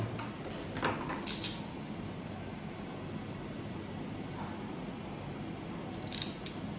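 Scissors cut through network cable in a few short, sharp snips near the start and another pair near the end, set against a quiet, low background hum.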